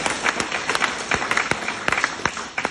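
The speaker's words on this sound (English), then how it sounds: "I'm holding the mic, but I want to clap as well." A small crowd claps and applauds at a gathering, with scattered distinct hand claps standing out over a softer continuous clapping wash, fairly close.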